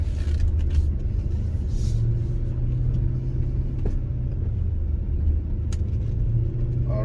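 A BMW E93 M3 with a DCT gearbox is driven on the road. It makes a steady low engine rumble from inside the cabin, loud and unbroken, with faint clicks but no clear rise and fall of a gear change.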